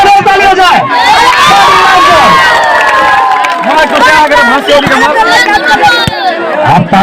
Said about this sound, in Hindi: एक बार फिर से जरूर ताली हो जाए।